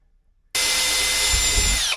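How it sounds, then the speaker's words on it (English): A power drill whirs steadily at low speed through plastic on a battery box for about a second and a half after silence, then winds down abruptly. "I'm also using the drill in low speed."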